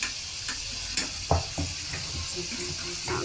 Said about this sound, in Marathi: एका टायमाला छान असे फ्राय होत आहेत आपले मोमो मोमोज नाही मोदक